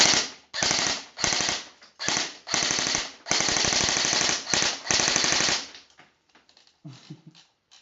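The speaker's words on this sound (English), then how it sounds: "It's a really loud gun." A Lancer Tactical LT-25 airsoft rifle fires fully automatic in a string of rapid, sharp, clattering bursts with short gaps between them, close and loud, followed by a few faint clicks and rattles as it falls quiet.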